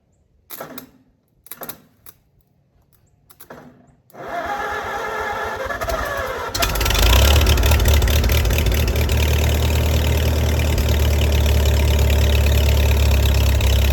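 A 1942 engine cranks with a few separate bursts, then catches into a growing roar and settles into a loud, steady, deep idle with a rough mechanical clatter.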